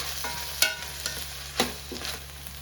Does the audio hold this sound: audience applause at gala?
no